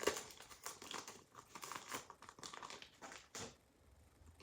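A 2008 Upper Deck Series 2 baseball card pack wrapper is carefully torn open, crisp crinkling and crackling foil in short close bursts that fade to quiet at the end.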